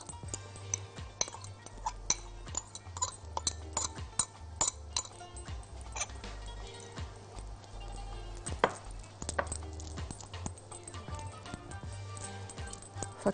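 Pastrami is pulled apart and cut on a board, giving a run of sharp, irregular knife taps and light clinks, close and fairly loud over a steady low background hum.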